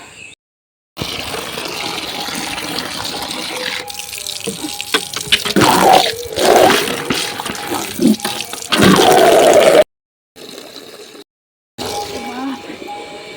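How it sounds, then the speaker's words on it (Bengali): Water from a tap splashes into a sink as a face is rinsed on a hot day, close and fairly loud, in broken stretches with brief pauses between. "মুখে চোখে একটু জল দিলাম"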